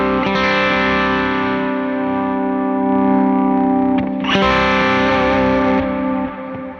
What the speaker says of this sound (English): Let's give it some more gain so we hear what the drive is actually doing.